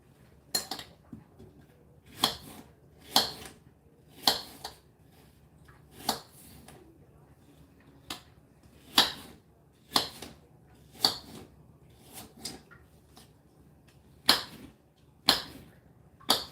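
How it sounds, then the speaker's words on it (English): A knife chops an apple into slices on a board, with sharp irregular clicks and taps at a relaxed pace, close and crisp over a quiet background. "And now I'm just chopping perfect slices of apple"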